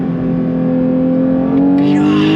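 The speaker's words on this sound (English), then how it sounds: "But the sound, the glorious sound of that flat 6." 2022 Porsche 911 GT3 flat-six engine running steadily with a strong harmonic drone, swelling slightly near the end as revs climb, loud and close from the cabin.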